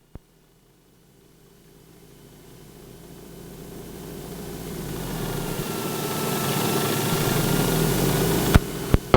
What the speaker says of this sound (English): So I'm just going to set the RPM up to 1600 RPM to check the operation of the propeller.